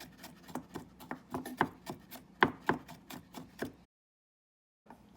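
A knife chops fresh ginger on a cutting board for pork congee, a quick run of about fifteen close, crisp taps, then a second of silence before one more faint tap.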